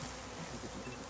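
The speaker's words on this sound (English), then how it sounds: "that was the bee" A honeybee buzzes in a steady, continuous drone, close and clear for about a second with no talking over it.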